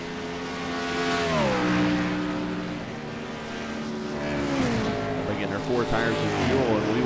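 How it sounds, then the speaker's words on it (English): Race cars in an Xfinity Series racing game pull onto pit road, their engines droning and dropping in pitch as they slow. The sound is moderately loud and carries on throughout, with a voice talking over it. "And here comes some cars to pit road."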